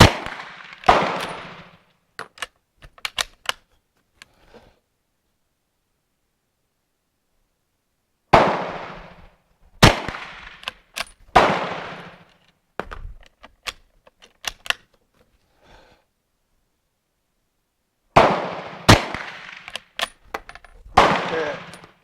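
A Spanish Destroyer carbine fires at an outdoor shooting range, its sharp, loud reports arriving in three separated clusters, each crack followed by echoing rattles and decaying reverberation, with long quiet gaps between and no speech.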